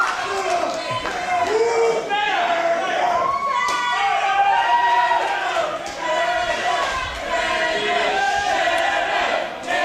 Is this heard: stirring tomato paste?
no